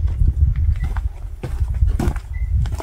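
A mare's hooves clip-clopping at close range, an uneven run of knocks and thuds on the ground with faint distant bird calls, no voices over it.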